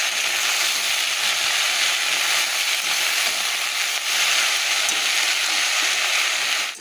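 Greens frying in a pan with garlic, onion, green and dried chilies and egg, crackling in an unbroken, fairly loud sizzle at close range, no voices present.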